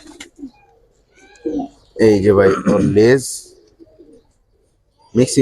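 Soft, low pigeon coos sound near the start and between phrases, while someone talks loudly close by in the middle of the stretch.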